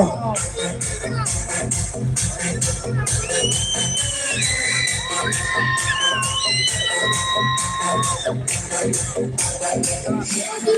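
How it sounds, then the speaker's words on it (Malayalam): A large crowd roars and shouts without pause at a tug-of-war contest between two strong teams, dense and loud, with whistle-like tones rising and falling through the din. "നല്ല പിറകിലേക്ക് ആരവങ്ങൾ ഉയരുകയാണ് ആവേശങ്ങൾ നിറയുകയാണ്"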